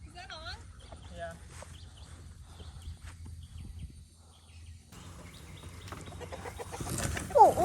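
A chicken gives a few short clucks and squawks early on, close by, with people talking and some handling noise around it.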